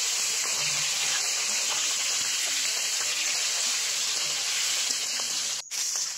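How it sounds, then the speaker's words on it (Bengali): Rohu fish pieces fry in hot oil in a wok, giving a steady, even sizzle and hiss that continues alone, with a short clatter near the end. "আর মাছটা আমি এভাবে আলাদা করে দিয়ে পাল্টিয়ে সুন্দর করে ভেজে নিই।"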